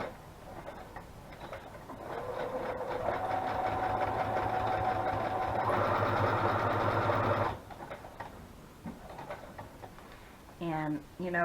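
A sewing machine runs a zigzag stitch through a paper tag for a torn-paper ephemera craft, a steady close mechanical whir of about five seconds rising slightly in pace, with quiet handling noises before and after.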